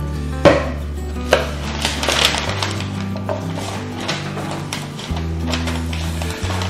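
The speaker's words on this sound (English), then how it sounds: "If you cut just on the flat side of it, it'll go straight through like butter and leave you a nice wing." A knife chops through a chicken wing joint during home butchering, giving two sharp knocks against a cutting board early on, then a steady low hum and faint handling sounds with no talk.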